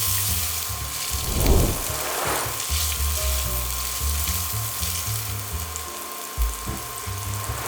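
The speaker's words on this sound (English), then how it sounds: "we want to cook this salami at least for 3 or 4 minutes" Salami fries in a hot pan with a continuous close sizzle and spatter that holds steady throughout, with a few louder pops and stirring scrapes along the way.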